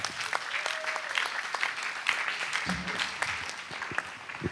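An audience at a New Year's wishes ceremony applauding, a dense, steady clapping from many hands close by that runs throughout, with a few voices and cheers mixed in.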